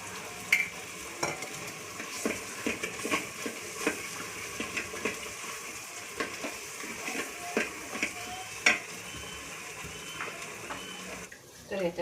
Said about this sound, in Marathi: छान याला मिक्स करून घ्यायचं. अद्रक लसणाचा पेस्ट टाकायचा.